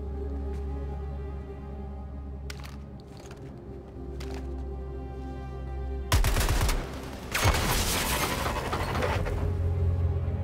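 A quiet hum gives way to a loud burst of gunfire aimed at a junction box in Suicide Squad: Kill the Justice League, two close, dense volleys of rapid shots near the end.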